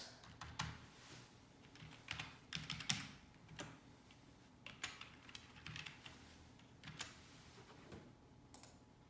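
Someone types on a wireless computer keyboard at a desktop computer, producing soft, irregular clicks and key taps in short bursts with small pauses between them, faint and close.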